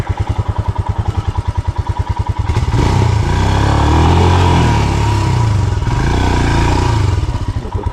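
A Royal Enfield Himalayan 411 motorcycle engine runs up close on a trail ride: steady single-cylinder thumping at first, then a loud, rougher surge of throttle with clatter and scraping that holds for several seconds before easing, with no talk.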